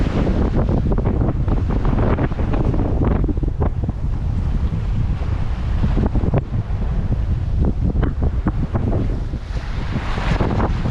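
Sailing a yacht under full canvas, strong wind buffets the microphone with a loud continuous roar while waves wash and splash against the hull beneath it, dense and unbroken throughout.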